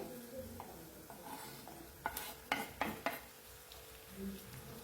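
Chopped tomato sautéing in oil with onions in a pan for an eggplant and potato curry makes a soft sizzle, broken by a few sharp spoon-on-pan scrapes near the middle.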